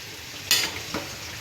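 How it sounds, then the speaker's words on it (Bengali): Potatoes being fried for a meat curry in a home kitchen give two short, sharp sizzling bursts, likely as they are stirred, against a quiet background. "মাংসের আলুটা ভেজে নিচ্ছি"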